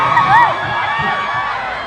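A crowd of fans at a Thai fan event screams and cheers loudly and continuously. High-pitched shrieks rise and fall over a dense roar of voices.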